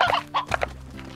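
A chicken in the video game Slime Rancher gives a few short, fairly faint clucks in quick succession, alone with no voice over them.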